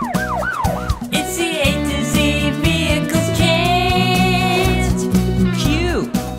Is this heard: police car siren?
yes